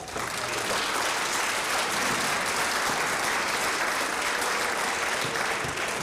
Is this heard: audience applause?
yes